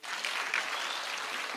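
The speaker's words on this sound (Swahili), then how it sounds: "Haya, pigieni Governor makofi." An audience at a public security forum in Migori Town applauds the Governor, a brief burst of steady clapping at moderate distance, with no voices over it.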